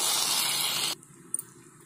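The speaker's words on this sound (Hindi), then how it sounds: "अब इसमें पानी डालेंगे जितना आपको ग्रेवी रखना हो उस हिसाब से आप ले लें" Water poured into a pot of dum aloo with potatoes, a steady gushing pour close by that cuts off abruptly partway, followed by a faint clink in quiet.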